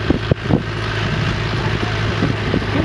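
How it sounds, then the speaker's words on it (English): A tractor at a vintage club ploughing day drives back across a field, a steady low engine drone with wind buffeting the microphone and a few bumps along the way. "This is Paula coming back on the tractor"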